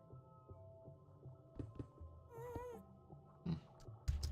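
A cat gives one short, faint, wavering meow partway through, set against a quiet low hum and scattered soft knocks.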